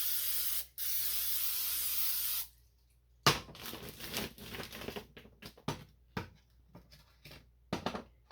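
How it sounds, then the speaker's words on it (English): A few seconds of steady spray hissing from a can of cooking spray, a brief pause, then a clattering of small taps and knocks. "Use some spray grease."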